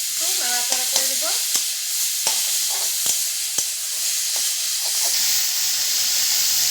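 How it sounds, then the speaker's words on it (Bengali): Crushed chalta (elephant apple) stirred in a hot pan, a loud, close, hissing sizzle punctuated by sharp spatula knocks and scrapes against the metal, with no voices. "এরপর থেতো করা চালতাগুলো আমি দিয়ে দিলাম। দিয়ে একটু নাড়াচাড়া করে দেব।"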